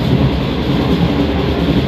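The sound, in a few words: train running during a journey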